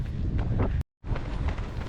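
Strong wind buffets the microphone in a continuous low roar, broken by a sudden brief dropout before the gusting rumble resumes.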